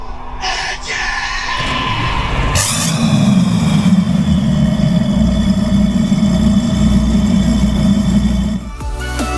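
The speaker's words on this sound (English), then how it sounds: "gentlemen, start your engine!" A boat engine cranks to life and settles into a loud, steady idle at Treasure Cay in the Abaco Islands, Bahamas, running continuously for several seconds before dropping off near the end.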